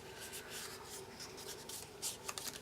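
Paper being folded for a paper flower card, soft rustling and rubbing of the sheet with a couple of light crinkles near the end, close and quiet.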